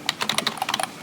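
Rapid typing on a computer keyboard while setting text in Adobe Premiere Pro, about a dozen crisp key clicks in quick irregular succession, close and alone.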